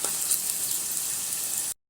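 Chopped onions fry in the oil left over from browning chicken pieces, giving a steady, bright hiss and sizzle up close that holds evenly for nearly two seconds before cutting off abruptly.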